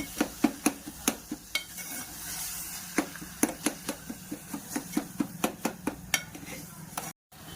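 A spoon stirs and scrapes through tomato masala with coriander in a pan, giving a regular rhythm of close, sharp clinks and scrapes over a faint sizzle, with a brief dropout near the end.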